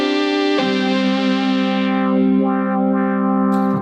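A Boss SY-1 guitar synthesizer sustains a bright, buzzy chord while its filter rate control sweeps the tone, giving a slow, resonant wah-like motion over a steady, loud drone.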